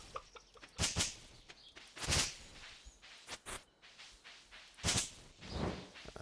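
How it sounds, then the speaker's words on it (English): Chickens in the video game Stardew Valley give a handful of short, scattered clucks and flutter-like bursts, spaced irregularly over a quiet background with no speech. "Chickens need touched."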